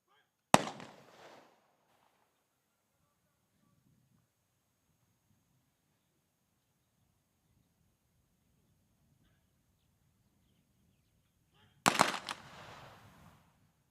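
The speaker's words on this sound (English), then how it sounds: "the volleys are done in pairs by the troops on parade" Troops on parade fire a ceremonial gun salute in volleys of two at a civic memorial. Two sharp, loud cracks are spaced about eleven seconds apart, each followed by a brief rolling echo, with faint murmuring in between.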